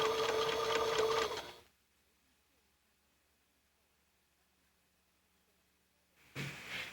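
A sewing machine stitches double fold bias tape in a fast, steady whir for over a second, stops into near silence, then starts again briefly at the end.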